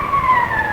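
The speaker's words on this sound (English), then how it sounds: "Listen. Police car." Police car siren from a 1945 vintage radio drama, a brief, loud, steady wail of two sustained tones heard alone.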